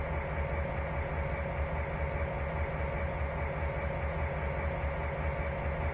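Coal train running in Trainz 2019 on the Tidewater route, a steady rolling rumble with a sustained mid-pitched hum and even background noise, continuous throughout and with no voices.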